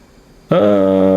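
An F/A-18 jet engine in the DCS flight simulator cuts in abruptly after silence, holding a loud, steady turbine roar and whine on a carrier landing approach.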